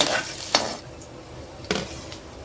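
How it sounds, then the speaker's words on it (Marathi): Chopped green chilies, ginger and garlic drop into a hot pan for Chinese veg cutlets, giving two short bursts of sizzle with stirring scrapes, then a lower crackle between them; no talking. "सगळ्यात पहिले आपण टाकणार आहोत 2 मिरची बारीक चिरलेली आहे. त्यानंतर अद्रकचा छोटासा तुकडा करून आपण घेतलेला आहे आणि 2-4 लसण ते पण बारीक चिरून घेतलेले आहेत."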